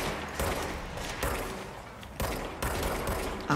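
Rapid bursts of gunfire in the video game Control, a dense continuous fusillade of loud shots with several sharper peaks, and no talk.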